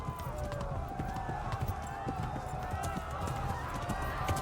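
Horse hooves clopping in the video game Kingdom Come: Deliverance, a steady rhythmic run of hoofbeats under a voice talking over the game sound.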